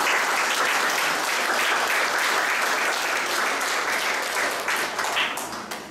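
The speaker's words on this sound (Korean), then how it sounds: "서로 축하하는 의미로 박수 부탁드리겠습니다" A crowd applauding steadily for several seconds, dense clapping that gradually thins and fades toward the end.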